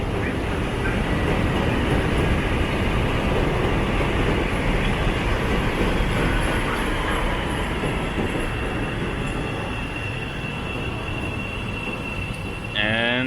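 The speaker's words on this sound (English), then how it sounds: "we got this train coming in here." A train pulls into a Chicago station with a loud, continuous rumble of wheels on rail, steady for several seconds before easing slightly, and a brief rising squeal near the end.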